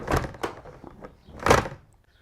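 The sliding side door of a Volkswagen T2 bay window camper, running in a track with no felt, rolls with a loud rumbling clatter and ends in a heavy thud as it shuts, with no talking.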